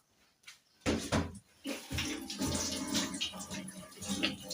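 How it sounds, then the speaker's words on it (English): Tap water runs steadily into a sink as hands are washed before cooking beef biryani, a close, continuous splashing rush that begins after a soft knock and carries on without talk. "I have to wash my hands and then I start cleaning this."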